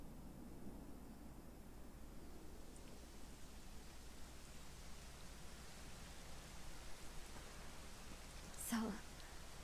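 Rain in the video game Dragon Quest XI S falls as a steady, even hiss throughout, with a brief sharper sound near the end.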